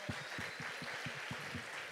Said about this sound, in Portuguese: Vamos aplaudir ao Senhor bem forte.